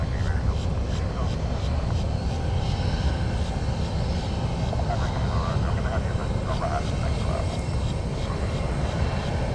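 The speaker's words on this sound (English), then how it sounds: "Next one direct approaching JetBlue 1017." A JetBlue jet airliner on approach to Fort Lauderdale–Hollywood International Airport produces a continuous, loud, broadband engine roar that stays steady throughout.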